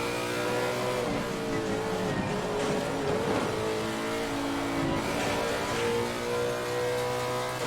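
Race car in Assetto Corsa Competizione, its engine roaring loud and steady throughout with revving, downshift blips and hard braking into a corner.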